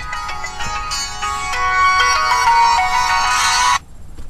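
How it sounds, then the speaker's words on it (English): A phone ringtone plays for an incoming call, a loud bright electronic melody lasting a few seconds that then cuts off abruptly, leaving quiet room tone. "That was a phone call from my dad."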